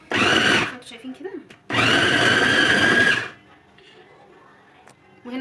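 An electric mincer grinding chicken for burgers whirs loudly in two close bursts, a short one then a longer one, with quiet kitchen clatter between and after.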